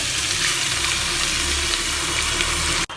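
Lentils tipped into a pot of partly boiled mixed vegetables for Bengali veg dal, giving a steady loud sizzling, bubbling wash that cuts off abruptly near the end.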